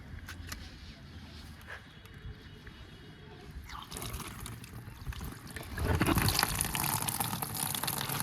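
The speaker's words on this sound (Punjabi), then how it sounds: "ਉਨੇ ਤੇ ਪਾਣੀ ਹੋਰ ਛੱਡ" Water trickles quietly at first, then gushes louder as more is poured, splashing steadily over the last few seconds.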